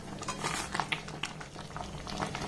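A raw mango pickle mixture bubbles on the stove, soft irregular pops and blips over a gentle simmering hiss, close but fairly quiet, with no talking.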